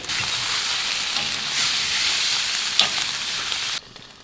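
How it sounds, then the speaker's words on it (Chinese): Fish sizzles in hot oil in a pan after scallions are added, a continuous bright frying hiss with a few stirring clatters before it drops away abruptly near the end. "现在这个鱼煎好之后，就可以放进去葱菜。"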